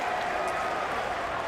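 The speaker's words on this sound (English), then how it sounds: "Crowd finally roaring their approval" A stadium crowd at an AFL match between GWS Giants and Collingwood roars in a steady, dense wash of noise. A commentator's voice rides over the roar.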